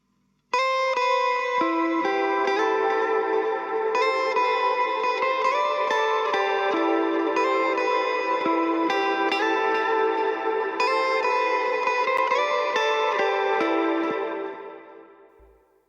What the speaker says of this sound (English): And I also recorded some guitar over here, which sounds like this.